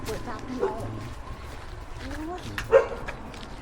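A dog barks and yips close by along a walk to a rented room, short sharp bursts scattered among people talking.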